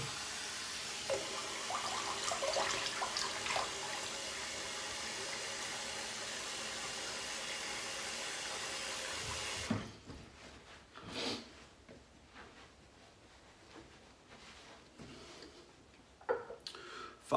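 Tap water runs steadily into a sink for a rinse after a safety-razor shave, close and fairly quiet. It cuts off at about ten seconds, and a few faint splashes and handling knocks follow in near silence.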